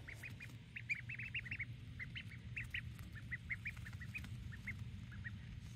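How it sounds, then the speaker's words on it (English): Ducks quack repeatedly in short, scattered bursts, several birds calling fairly close over a low background rumble, with no one speaking. "So I always wanted ducks"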